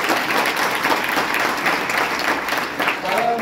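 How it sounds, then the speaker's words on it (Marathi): Loud, dense applause from a crowd at a Marathi student guidance gathering, steady clapping filling the whole stretch. "जोरदार टाळी वाजवा"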